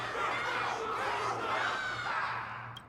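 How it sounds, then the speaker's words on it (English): Loud crowd cheering and shouting in the Honkai: Star Rail video game, a dense, steady roar of many voices rallying behind the character Luca, holding for about three seconds before easing slightly at the end. "Everyone's cheering for you, Luca!"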